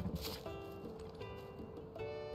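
In the video game Zelda: Tears of the Kingdom, a golden horse's hooves clip-clop faintly in a steady walking rhythm beneath a sustained musical drone, with no talking.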